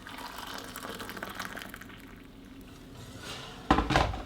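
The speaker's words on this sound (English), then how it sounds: "Water into the mug." Boiled water pours from a kettle into a mug, a steady close liquid stream with a louder splashing burst near the end.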